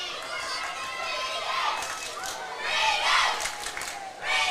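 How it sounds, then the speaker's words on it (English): St Rita's cheer squad cheering at a school sports match, a crowd of young voices shouting and cheering in swelling bursts, heard at some distance over a field. "As you can hear in our effects mics, and Rita's cheer squad is here in force."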